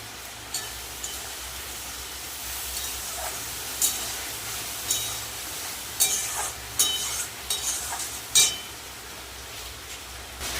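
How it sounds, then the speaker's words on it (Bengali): A paste of cumin and dried red chili fries in a pan for a taro and prawn dish, with a soft continuous hiss and sizzle and several louder bursts of spattering and spoon scraping toward the end. "জিরে আর লঙ্কা বাটাটা দিয়ে দেবো শুকনো লঙ্কা বাটা"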